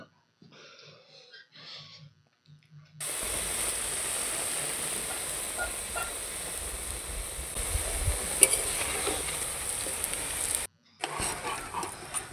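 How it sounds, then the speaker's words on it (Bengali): Spinach fritters frying in hot oil for a masala curry, turned over as they brown; a steady, loud sizzle runs for several seconds after a brief quieter start, then cuts out near the end. "এইরকমভাবেই উল্টে পাল্টে লাল লাল করে বড়াগুলোকে ভাজা ভাজা করে নিতে হবে।"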